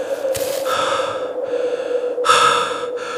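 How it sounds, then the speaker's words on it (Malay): Slow, heavy breathing comes through a phone on a live call, a few drawn-out inhales and exhales heard close and slightly filtered, with no speech. "Tapi sekarang yang keluar cuma bunyi nafas perlahan."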